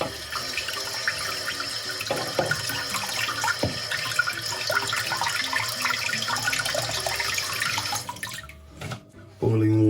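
Cold water runs from a tap over a glass bottle, a steady splashing stream with drips and small clinks against the glass, close by, ending abruptly as the flow stops.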